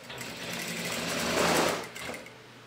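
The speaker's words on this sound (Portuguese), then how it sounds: "Aí você vai costurar. Vou passar aqui uma costura no centro-frente." A sewing machine runs steadily while stitching the centre-front seam of a garment, a close continuous mechanical whir that swells briefly in the middle before easing off.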